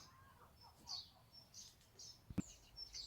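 Birds chirping at a nest built on top of a shoe cabinet indoors, short high tweets repeating every half second or so, faint and close, with a single sharp knock partway through.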